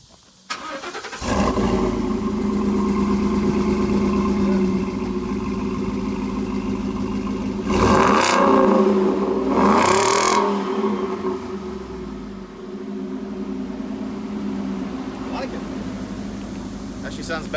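A pickup truck fitted with a new aftermarket exhaust cranks and fires up, then settles into a steady, throaty idle with two sharp revs around the middle, close to the microphone.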